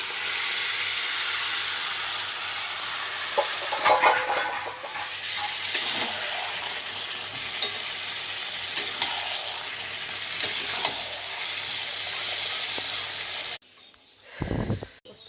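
Chicken sizzles and spits as it fries in a pan of spiced masala, with steady close-up frying and occasional stirring scrapes, then cuts off near the end.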